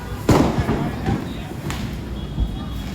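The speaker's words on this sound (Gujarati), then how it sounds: "હું કપડાં બદલીને ફટાકડા ફોડતી હતી." Diwali firecrackers bursting outdoors, a few sharp cracks and thuds spaced irregularly, the strongest early on and another later, with people talking over them.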